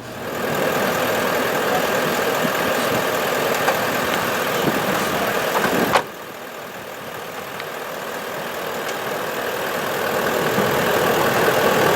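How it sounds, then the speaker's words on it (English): A portable air compressor runs at an outback campsite in the Flinders Ranges, used on a flat tyre: a steady, close mechanical drone that drops in level after a sharp click midway, then hums on alone. "Compressor on, John."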